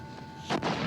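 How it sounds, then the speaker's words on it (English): A sudden loud boom bursts out midway, followed by a sustained rumbling roll as fireworks echo across a valley. "The fireworks echo across the valley"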